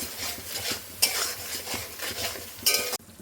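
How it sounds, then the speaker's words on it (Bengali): Spices and salt frying in a pan for chicken curry, with a spatula scraping and clinking against the metal over a light sizzle, stopping abruptly near the end. "দিয়ে দিচ্ছি লবণ, একটু ভেজে নেব।"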